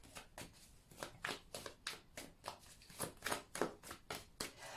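Tarot cards are shuffled in quick, riffling bursts that repeat rhythmically, crisp papery slaps close to the ear with no voices over them.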